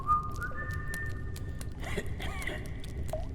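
Whistling in the video game Indika, a clear tonal whistle near the start that rises and holds as a steady pitch, over a low rumbling game ambience.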